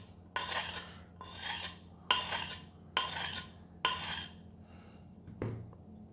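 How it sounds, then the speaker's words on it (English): Kitchen knife being deliberately dulled against a sharpening stone: five regular rasping scrapes about a second apart, each a gritty broadband swipe, then a brief clack, close and moderately loud with no voices. "So I'm gonna dull the knife."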